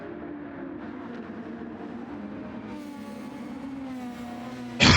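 A Cosworth-engined Dallara SF23 race car in a sim racing game at Red Bull Ring gives a loud, steady engine drone whose pitch climbs and eases, ending in a sharp, loud burst.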